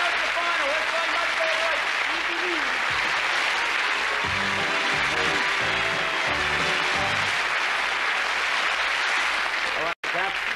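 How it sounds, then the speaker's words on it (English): Applause from a studio audience on the 1993 British TV snooker game show Big Break, a sustained crowd clapping throughout, with a host's voice and brief music-like tones in the middle. "Give them a nice clap, ladies and gentlemen"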